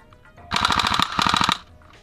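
An airsoft gun fires rapidly during an airsoft game, two quick back-to-back bursts of sharp, loud automatic shots lasting about a second, then quiet.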